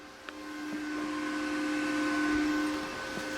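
Vevor TIG 210F welder pulse welding sheet metal at 210 amps, a steady electric buzz with sustained tonal hum that swells slightly mid-way, faint and continuous, with a few small crackles at the start.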